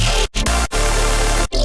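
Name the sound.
melodic dub engine synth preset, Kilohearts Colour Forge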